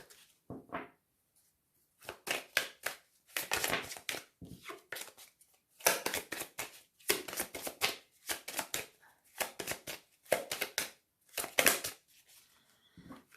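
A deck of oracle cards being shuffled and cut by hand, repeated close bursts of riffling and flicking paper separated by short pauses, crisp and fairly loud with no talking.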